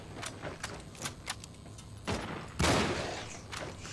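Enemy zombie soldiers open fire in the Cryostasis game. Scattered bursts of gunfire crack in a rapid run, with a heavier, louder blast near the end, and no talking.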